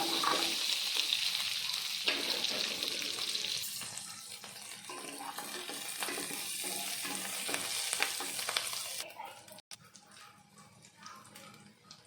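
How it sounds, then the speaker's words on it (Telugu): Green chillies, a sliced large onion and six or seven garlic cloves fry in a pan, giving a steady close sizzle with occasional stirring scrapes that fades slightly toward the end. "ఇప్పుడు అదే ప్యాన్లో కొన్ని పచ్చిమిర్చి ఒక పెద్ద ఉల్లిపాయ ముక్కలు ఆరేడు వెల్లుల్లి రెబ్బలు వేసి బాగా వేపుకోవాలి"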